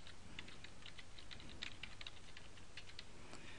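Fingers tap out an email address on a computer keyboard, a quick irregular run of soft close clicks heard alone at low volume.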